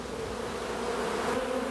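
A steady, dense hum of honeybees buzzing inside a hive, continuous and fairly loud at close range with no voices.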